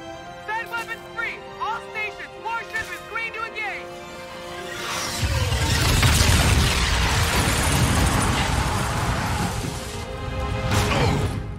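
An artillery strike in the shooter game Infinite Warfare erupts as a loud, sustained roar of explosions and crashing debris, following shouted voices that fill the first few seconds.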